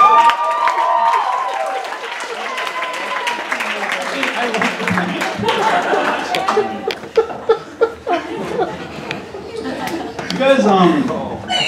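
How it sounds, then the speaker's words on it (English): Audience at a standup comedy showcase breaks into applause mixed with laughter and chuckles, a steady crowd wash with a few sharp claps standing out near the end. "A round of applause."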